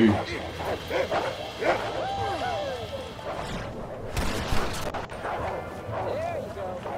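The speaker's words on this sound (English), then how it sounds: "That's not a wolf. It's a dog." Dog barks and yips in the Red Dead Redemption hunting game, several sharp bursts mixed with game noise and someone talking over them.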